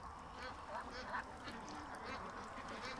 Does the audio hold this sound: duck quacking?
yes